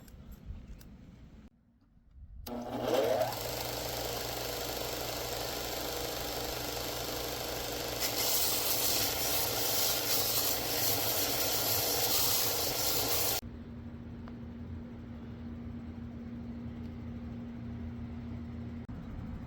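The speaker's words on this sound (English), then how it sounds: "I got the handles sanded down some" Wooden handles for a scrap-built morning star are sanded with a powered sander, a steady loud whirring grind running for about eleven seconds, then stopping to a quieter hum.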